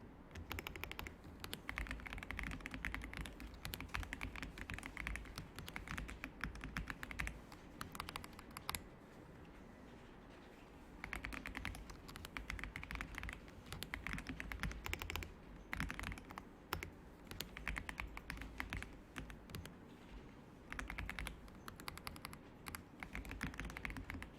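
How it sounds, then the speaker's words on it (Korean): Fast, continuous tapping of keys on a computer keyboard, soft and close, with rapid clicks running steadily and one brief pause midway. "방향키 이용해서 이동해 가면서 내용 써줄게요."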